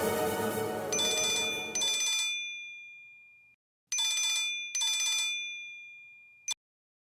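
An electronic telephone rings in a Tamil TV serial, with bright repeated bursts: a long opening stretch, then two short rings after a silent pause and a final brief blip, heard alone.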